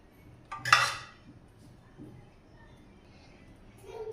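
Three glasses being set down during dessert preparation: one bright glassy clink up close, followed by a softer knock and a faint tap near the end, in a quiet room.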